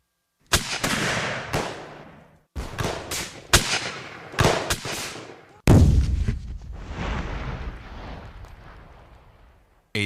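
Civil War battle lines sound with booming artillery and gunfire: several heavy, close blasts, each trailing off into a long rumbling decay, with one especially loud report midway.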